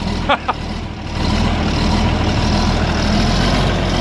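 A John Deere 4430 or 4440 tractor's diesel engine settling into a rough, low idle after a couple of brief knocks at the start, loud and close, with no talk.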